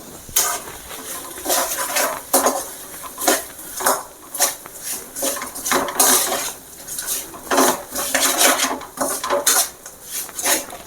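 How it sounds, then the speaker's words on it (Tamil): Semolina is roasted on low heat in a metal pan for rava kesari, a spoon scraping and stirring in regular rhythmic strokes, close and clear with no talking. "இந்த ரவா அதையும் நம்ம அதில் அப்படியே கொட்டி நல்லா வறுத்துக்கலாம்"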